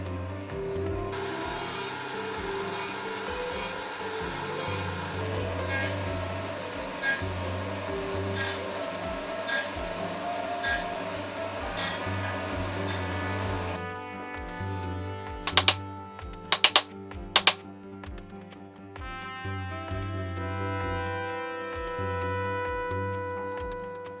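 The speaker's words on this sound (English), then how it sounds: "the cuts are never quite exact, especially with the router jig cutting the mortises" Router running in a jig cutting mortises into oak for a workbench base, a steady machine drone with rubbing wood cuts, then quieter with a few sharp knocks near the end.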